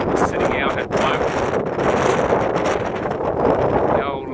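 Strong, constant wind roars on the windy side of an island cove on Deal Island while sailing, loud and buffeting the microphone throughout, with a voice faintly under it.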